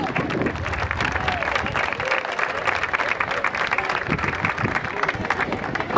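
People at a municipal arts and trades school event clap in a busy, textured burst of applause, with murmured crowd voices mixed in as it continues.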